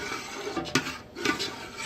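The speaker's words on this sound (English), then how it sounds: "So at this point you're stirring, trying to get the jellies mixed in really well with the juice" Spoon stirring a jelly mixture with juice in a pot, a few soft scrapes and light clinks against the metal, close and quiet.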